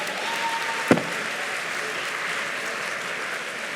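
Conference audience at a gaming show in Toulouse clapping for the actors of Charmed, a continuous wash of applause with one sharp knock partway through, fairly loud and even.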